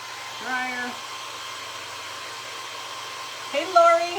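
A hair dryer runs steadily, drying a primitive snowman craft project, its broad whoosh holding throughout with a brief speech-like burst early and another near the end.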